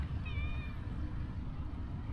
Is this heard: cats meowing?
yes